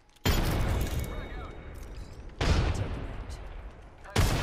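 Three loud blasts of frag grenade explosions and gunfire in the battle royale game Apex Legends, each hitting sharply and rumbling into a decaying roar.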